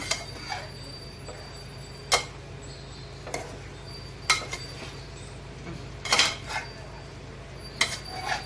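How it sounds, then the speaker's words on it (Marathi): Vegetable biryani ingredients mixed in a pressure cooker, a metal spoon striking and scraping the pot in sharp, spaced clinks over a low steady background hum. "हे बघा आता हे मी मिक्स करून घेते पण मला वाटतं हा कुकर लहान पडणार आहे"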